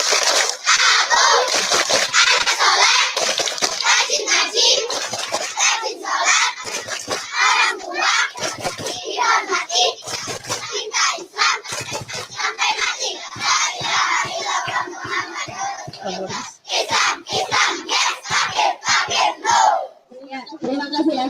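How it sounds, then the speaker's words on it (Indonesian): A loud group of children chanting the rhythmic Indonesian clapping cheer "Tepuk anak soleh," voices shouting in unison with sharp handclaps punctuating the beat, noisy and close, over about twenty seconds. "Tepuk anak soleh."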